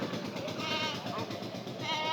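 Goats bleating repeatedly at a busy livestock market in Gazipur ahead of the Qurbani sale, a steady close chorus with crowd noise and voices behind it.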